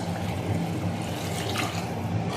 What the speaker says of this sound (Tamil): ஒரு நாலு கப் அளவுக்காவது நம்ம தண்ணி ஆட் பண்ணிக்கலாம்